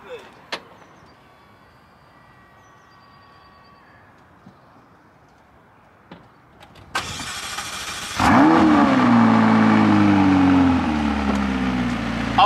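A McLaren starts up after quiet cabin handling and a door thud: a sharp starter catch flares into a loud rev that settles into a strong, steady idle.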